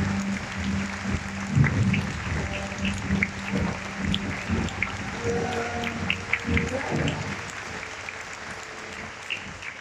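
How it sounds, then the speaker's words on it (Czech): An audience at Comic-Con Prague applauds a guest, with a loud burst of clapping that builds and then carries on steadily through a large hall, with some murmuring and a brief voice in the crowd. "Prosím, potlesk pro Esat Ribič."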